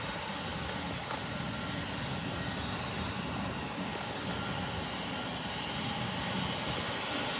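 Jet airliner engines, Boeing 747s waiting to take off, produce a steady broadband roar that holds at an even level throughout, with no voices over it.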